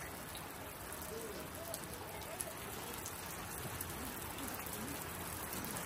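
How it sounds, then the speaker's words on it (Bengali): Steady rain falls on surfaces at an outdoor safari park in Atlanta, a soft continuous patter that holds level throughout with a few faint scattered sounds beneath it. "এখন আবার বৃষ্টি শুরু হয়ে গেছে।"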